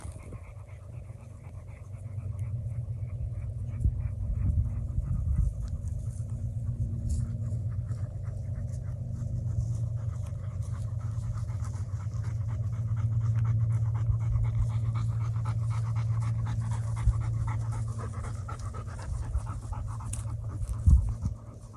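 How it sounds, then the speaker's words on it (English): A dog pants heavily and rhythmically up close after having cactus removed from its mouth, a steady breathy huffing that continues for about twenty seconds. "I have to take a cactus out of my dog's mouth."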